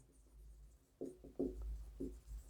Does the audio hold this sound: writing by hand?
yes